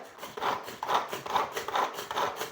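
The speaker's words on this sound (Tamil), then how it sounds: "இது வெங்காய சாப்பர் வந்து வெங்காயம் கட் பண்ணுறதுக்கு ரொம்பவே ஈஸியாக இருக்குது" A hand-operated onion chopper cuts onion with a regular series of close, raspy scraping strokes, roughly two per second, and no voices.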